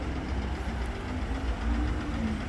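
An Isuzu FXZ360 dump truck's diesel engine idles steadily before pulling away, a low continuous rumble with a faint knocking texture, close and unbroken, no voices.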